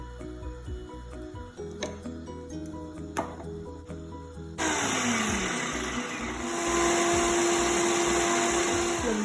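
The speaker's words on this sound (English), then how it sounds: "I'm going to blend it together" Blender whirring on a fish marinade with Aromat seasoning, starting abruptly after some quiet clinking and then running as a steady, close, high-pitched motor roar.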